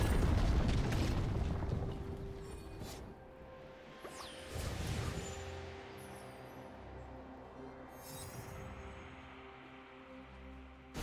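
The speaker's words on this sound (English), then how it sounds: "Red Team's turret has been destroyed." A turret destroyed in League of Legends, a booming explosion with a rushing whoosh early on, then a second burst and fading rumble, moderately loud amid game effects.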